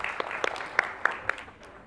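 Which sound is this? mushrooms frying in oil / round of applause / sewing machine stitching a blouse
round of applause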